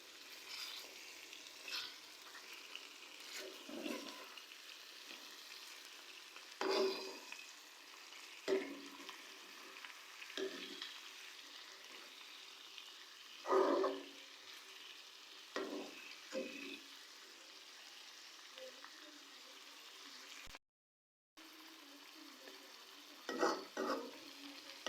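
Fish frying in a pan for Lahori fish fry, a soft steady sizzle with repeated bursts of scraping and crackling as pieces are turned over, close and quiet, with a brief dropout near the end.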